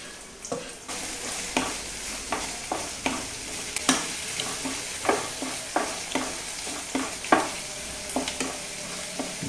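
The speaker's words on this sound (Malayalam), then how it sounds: "അരിഞ്ഞു വെച്ചിരിക്കുന്ന ഉള്ളി ഇടുക." Chopped onion stirred and frying in oil in a kadai for a vendakka (okra) mappas, with a steady sizzle broken by regular spatula scrapes and stirring clacks, close and alone.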